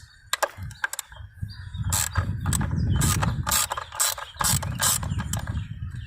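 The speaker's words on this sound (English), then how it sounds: "See how I see me turn some wrenches." Ratchet wrench clicking in rapid bursts while working on the engine of a 1995 Cadillac Sedan DeVille during a valve cover gasket and spark plug job, close and loud, with brief pauses between strokes.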